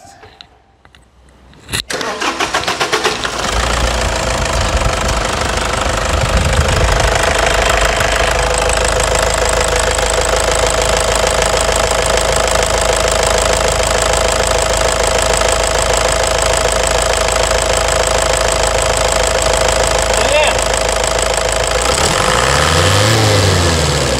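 A Toyota Hilux 2.5 diesel engine cranks and starts, then runs steadily after injector and high-pressure pump repair with a new turbo filter, idling loud and close with a rough knocking clatter and no talk.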